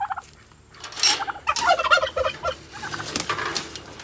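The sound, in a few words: turkeys gobbling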